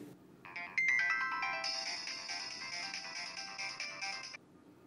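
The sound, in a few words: mobile phone ringtone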